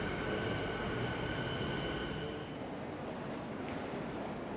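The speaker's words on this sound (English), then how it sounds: "Train coming in on platform 4 is the Frankston train." A Frankston line suburban train rolls into a platform at South Yarra station, a steady loud rumble of wheels on rails with faint high squeals that ease as it slows.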